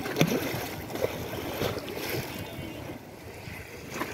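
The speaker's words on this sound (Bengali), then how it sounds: "মানে এই যে পানির যে ছলাতে একটা শব্দ" Water laps softly and continuously across a monsoon-flooded haor wetland, with light wind buffeting the microphone.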